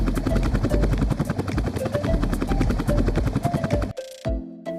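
A helicopter heard up close, its rotor chopping in a fast, steady pulse over a deep engine whine for about four seconds before it cuts off abruptly.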